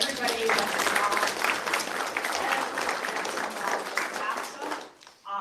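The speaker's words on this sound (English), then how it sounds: "So I think a round of applause for everybody that's involved" Audience applause fills a town hall meeting, dense steady clapping from many hands for about five seconds before tapering off near the end.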